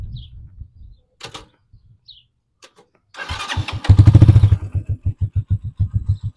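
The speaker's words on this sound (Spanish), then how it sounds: "hagamos la prueba encendiendo nuestra moto" A motorcycle engine in neutral, after carburetor mixture adjustment, cranks with a few short bursts, then catches and fires up into a loud, rapid, pulsing idle.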